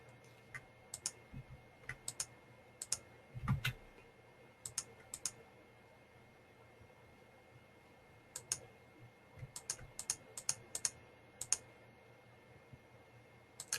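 Sparse keystrokes and clicks on a computer keyboard, scattered taps in small clusters with long quiet gaps, close but soft, no talking.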